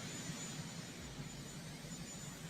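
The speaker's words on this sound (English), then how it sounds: "now we're going to watch him take off in this big-ass helicopter." A large presidential helicopter lifts off, its engine and rotor giving a steady, heavy low roar with broadband turbine hiss, continuous and fairly distant, with no voices over it.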